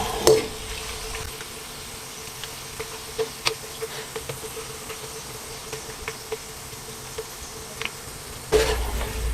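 Small dried fish frying in a pan over strong heat give off a steady, faint sizzle and crackle with scattered soft pops and a faint background hum, without any talk.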